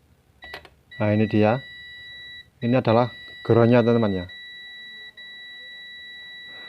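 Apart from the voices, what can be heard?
tester beep when finding ground on old TV tuner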